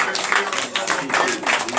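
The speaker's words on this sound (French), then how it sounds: "Donnez de vive acclamation à notre Seigneur" A congregation claps in acclamation during a morning prayer service in Benin, a dense, steady patter of many hands with voices mixed in throughout.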